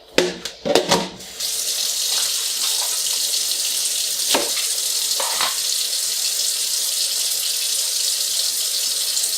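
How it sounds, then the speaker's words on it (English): Vegetables are washed under a running kitchen tap for a Vietnamese crab noodle soup, with a steady close hiss of water after a few brief clatters at the start and occasional splashes as the greens are handled. "Here I am going to wash them."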